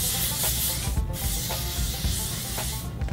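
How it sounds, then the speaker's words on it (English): Hairspray hisses steadily onto hair slicked back into an 80s Dallas style, a continuous close aerosol spray with a brief pause midway and no talking. "it wouldn't be 80s Dallas hair without a healthy dose of hairspray."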